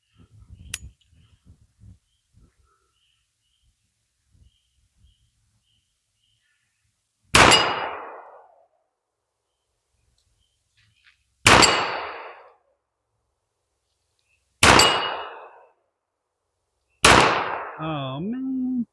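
A World War II era pistol marksmanship test at a range: four sharp pistol shots, spaced a few seconds apart and loud and close, each with a quick decaying ring, the last followed by a metallic clang from a steel target.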